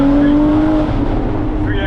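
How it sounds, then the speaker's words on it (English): A Porsche Cayman GT4 of the 981 generation with a 3.8-litre flat-six runs steadily at close range as a loud, continuous engine drone under a voice, with one tone gliding slowly down in pitch. "The noise of this flat six"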